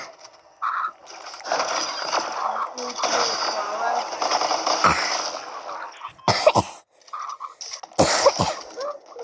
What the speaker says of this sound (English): I just cough a lot.